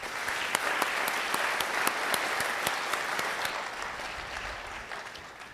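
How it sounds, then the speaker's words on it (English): Sustained applause from an audience at a police honor ceremony in Fresno, dense steady clapping with a few sharp nearby claps, slowly tapering at the end. "Give them a round of applause."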